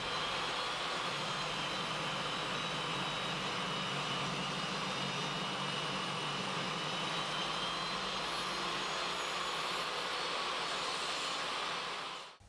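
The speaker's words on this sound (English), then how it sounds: "it's safe to make a cut on the table saw" A table saw rips through rough lumber, a loud, steady whirring roar that holds unbroken for about twelve seconds before cutting off abruptly at the end.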